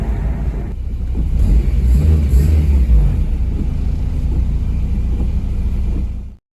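Deep, steady rumble of an Acura RSX turbo engine idling through a custom exhaust downpipe, loud and close, holding even before cutting off abruptly.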